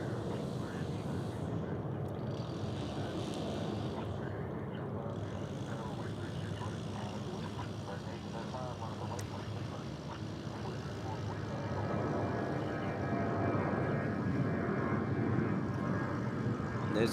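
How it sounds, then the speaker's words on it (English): An airliner departing Dallas Fort Worth for Albuquerque gives a continuous engine roar that builds slightly toward the end, with faint broadband rumble throughout and no talk heard. "This flight headed to Albuquerque, New Mexico."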